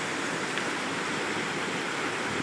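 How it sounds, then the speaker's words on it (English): A river flows past nearby with a steady, even wash of rushing water and no pauses or voices. "this is our river"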